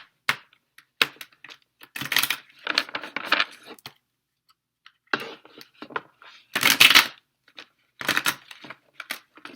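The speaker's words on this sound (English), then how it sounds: "These are not shuffling well." Tarot cards riffle and clatter in several quick bursts separated by short pauses, the stiff deck snapping and slapping together close up.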